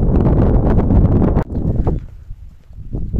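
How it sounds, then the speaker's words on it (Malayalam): Strong wind on a rocky hilltop trekking area in Idukki, loud buffeting gusts rumbling against the microphone, then easing into lighter bursts toward the end. "കാറ്റ് ഒരു രക്ഷയില്ല കേട്ടോ, അന്യായ കാറ്റാണ്."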